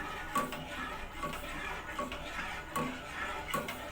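Custard-mixed milk being stirred with a spoon in a pot over the stove, for mango ice cream, gives soft scraping and clinking against the metal at an irregular pace, close by and with no talk.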